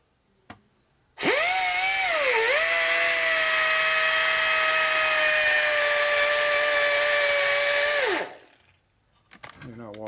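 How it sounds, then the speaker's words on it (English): A close, loud power grinder runs steadily for about seven seconds on a Harley-Davidson panhead engine's broken oil pump primary oiler adjuster screw, dipping briefly in pitch under load before winding down; faint thumps are heard before and after. "Alright, we're going to grind it some more."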